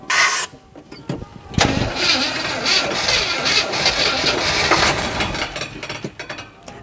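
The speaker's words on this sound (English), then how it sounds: "we were finally ready for our first test fire using some starting fluid" A barn-find Oldsmobile 442 cranks over on starting fluid for its first start in thirty years, with rough starter grinding and sputtering catches building into a loud, uneven engine roar nearby.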